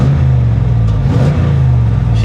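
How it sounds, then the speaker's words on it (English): A Chevrolet Camaro Z28 with a six-speed manual, a fresh engine build and air suspension rumbles through its exhaust, a loud, steady low-pitched idle that swells briefly as the engine revs, close up with no talking. "And a nice sounding exhaust."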